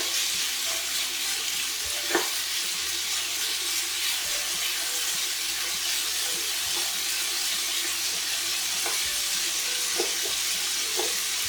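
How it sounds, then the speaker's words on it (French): Pieces of meat sear in a pan over very high heat, giving a steady close sizzling hiss with a few faint scattered pops throughout. "les morceaux de viande à feu très très fort"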